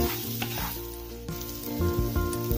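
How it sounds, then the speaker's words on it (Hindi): Masala for gobi paratha sizzling as it fries in a pan, a loud, continuous crackling hiss with a few stirring scrapes, close up. "मसाला फ्राई हो गया है"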